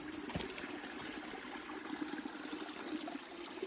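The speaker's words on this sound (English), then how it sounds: "Little babbling brook." A soft, steady trickle of running water, continuous and fairly faint, like a small creek flowing nearby in a boreal forest, with no voices.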